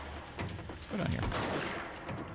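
Rapid gunfire bursts from the video game Control, sharp cracks and rattling volleys layered with a game soundtrack, with a voice speaking over part of it.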